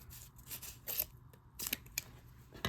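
Scissors snip and cut open an eBay shipping package holding a Pokemon card, with a run of close, crisp snips and rustling at an uneven rhythm, moderately loud, with no speech.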